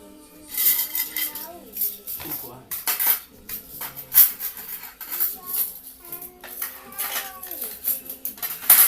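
Plastic plates and dishes handled and set down, clattering and clinking in quick irregular bursts close by, with people talking and a voice in the background throughout.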